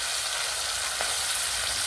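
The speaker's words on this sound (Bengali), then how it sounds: "মাছগুলো ভাজাও হচ্ছে, দেখুন কত সুন্দর ভাজা হচ্ছে।" Rohu fish frying in oil over a wood-fired clay stove, giving a steady, even sizzle with no voices throughout.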